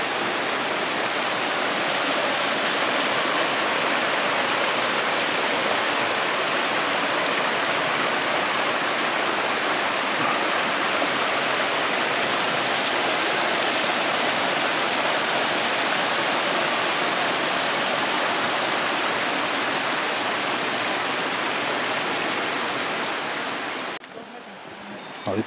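Waterfall at Mil Cascadas roaring as a steady, dense broadband rush of falling water, loud and continuous throughout, with no voices.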